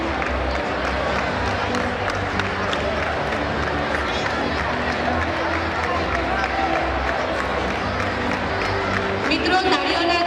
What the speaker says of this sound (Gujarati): મિત્રો, તાળીઓના ગડગડાટથી આપણે તેમને વધાવી લઈશું.